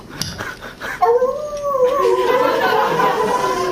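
A man on a stage show imitates a coyote baying at the moon, a loud close howl rising and wavering for a few seconds after some brief yips, with the audience faintly reacting underneath.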